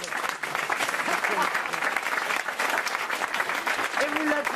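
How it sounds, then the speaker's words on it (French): A studio audience at a French radio comedy panel show applauds loudly and continuously, a dense clapping roar with voices faintly mixed in. "Et vous l'applaudissez."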